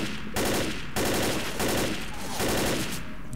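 Bursts of automatic gunfire in the zombie shooter Left 4 Dead, subway level of No Mercy, come as four sustained rattling volleys in a steady on-off rhythm, loud and close with no talk.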